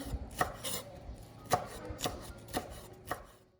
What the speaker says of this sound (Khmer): យើងនាំគ្នាមកហាន់ស្លឹកខ្ទឹមឲ្យទៅជាកំណាត់តូច